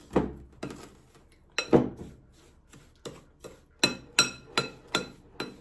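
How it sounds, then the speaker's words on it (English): The back of a large spoon mixes an olive-oil body scrub, giving an irregular run of about a dozen sharp clinks and knocks against the container, close and clear with quiet gaps and no speech. "Now I'm going to mix it. So I use the back of a large spoon."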